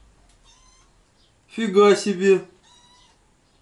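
A cat lets out one loud, drawn-out meow close by, framed by quieter talk before and after.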